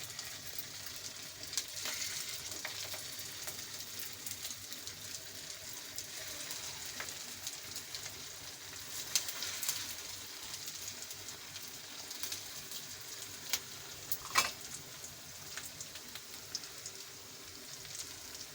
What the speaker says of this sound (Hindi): तो चलें अब हम इनको फ्राई कर लेते हैं।